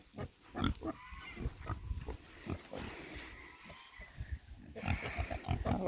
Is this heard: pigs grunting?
yes